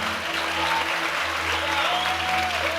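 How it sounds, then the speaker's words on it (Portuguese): A church congregation applauds from their seats after a sermon line, a dense, steady wash of clapping filling the room for the whole stretch, with low sustained tones from a keyboard or organ underneath. "você pode aplaudir no seu lugar"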